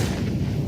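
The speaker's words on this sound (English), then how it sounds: "coldzera now down to 5 HP thanks to that grenade drop on the side" A grenade explosion in the video game CS:GO, heard as a brief, loud, deep rumbling boom that holds steady through the short moment.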